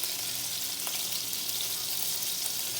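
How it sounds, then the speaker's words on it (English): Onions sizzling in a pan right after steaks were seared in it, a steady bright hiss with no talking over it. "I'm going to put in my onions"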